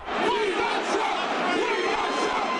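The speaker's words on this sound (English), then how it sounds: "The crowd of thousands erupted after the announcement." A political rally crowd of thousands erupts after a postponement announcement, with loud sustained shouting, chanting and yelling from many voices close and far, a dense roar throughout.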